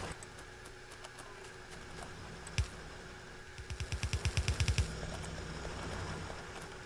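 Gun turrets in Factorio firing, with one sharp shot followed shortly by a quick rhythmic burst of about a dozen rapid shots, moderately loud over a steady game background hum.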